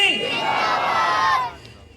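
A crowd at an Eid Milad un Nabi gathering in Jaipur shouts religious slogans together in response to a call, a loud, sustained massed roar that drops away after about a second and a half.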